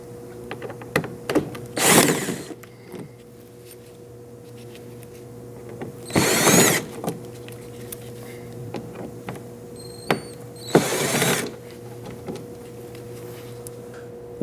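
T25 screws being backed out of a car fender liner with a power tool on an extension, during rear sway bar link work on an Audi Q5. Three short bursts of whirring drill sound stand apart, separated by quieter shop noise.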